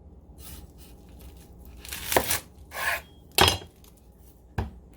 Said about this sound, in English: So we cut the onion in half.